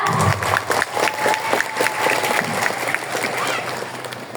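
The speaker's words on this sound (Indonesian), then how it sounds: "Boleh tepuk tangan dan berikan apresiasi yang sebesar-besarnya untuk orang tua kita?" An audience at a school graduation ceremony gives sustained applause for the students' parents, a dense, loud wash of clapping with crowd murmur and some voices mixed in.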